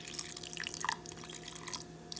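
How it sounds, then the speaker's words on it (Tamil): Tamarind water being added to a Madurai-style fish curry gives soft, faint dripping and trickling with a few brief splashes, with no talking. "இது வந்து இப்போ நம்ம கரைச்சி வச்சுருக்க புளியை அதில் வந்து நான் சேர்த்துட்டேன்."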